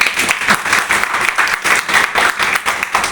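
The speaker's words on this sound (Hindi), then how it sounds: "ताली नहीं बजाएंगे?" Audience at a business seminar breaks into loud, dense applause, many hands clapping steadily and close for the whole stretch, with no one speaking over it.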